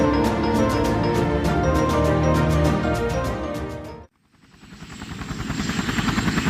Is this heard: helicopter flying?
yes